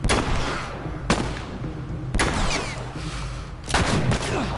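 Several gunshots in The Last of Us, sharp reports at roughly one-second intervals with one doubled shot near the end, each trailing into a reverberant tail over a busy rumbling game background.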